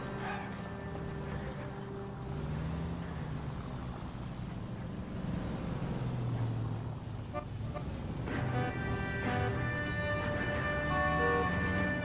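In L.A. Noire, a car drives on through city traffic with a steady engine and road rumble, scattered horn toots, and a person talking over it.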